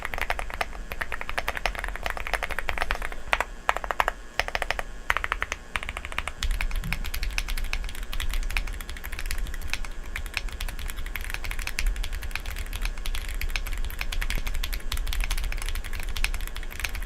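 Steady, fast typing on a computer keyboard during a keyboard sound test, with dense, close clacking keystrokes that run the whole time and no talking.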